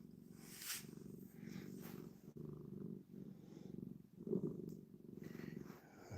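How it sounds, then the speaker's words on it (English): A cat purring up close, a low, steady rumbling purr with rhythmic breathing cycles, soft and continuous throughout. "You got a good purr going, Mr. Maximus."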